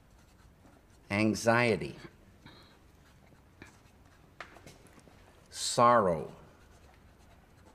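Marker or chalk scratching out words on a board in two separate bursts of quick squeaky strokes, with someone speaking slowly in the quiet gaps between them.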